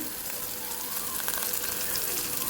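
Onion, curry leaves and cumin sautéing in hot oil for semiya upma, a dense, even hiss of frying that stays steady and close throughout, with faint stirring and no clear speech.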